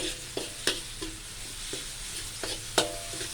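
Chilies and pickled natural bamboo shoots stir-fried in a pan, a steady sizzle with a few sharp spatula scrapes and clatters at irregular intervals, close and fairly quiet, no talking.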